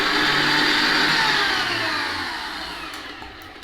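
A Kenwood stand mixer whisks double cream at medium speed, giving a steady, loud, close whirring drone that holds throughout and eases off slightly toward the end.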